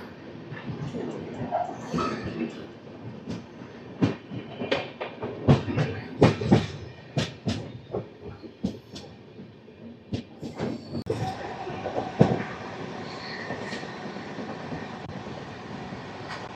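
Rayalaseema Superfast Express pulling away from Kadapa station on the Nizamabad–Tirupati run, with sharp rhythmic clacks and thumps of wheels over rail joints and a rumbling carriage interior, loud and uneven at first, then steadier.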